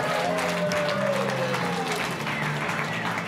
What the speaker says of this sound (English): Give a big round of applause for Andre Froloff.